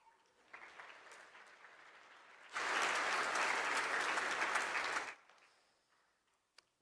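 Audience applause greeting Jeff McMillon as he comes on stage, a dense burst of clapping that swells suddenly, holds loud for about two and a half seconds, then cuts off, with quiet room murmur before and after.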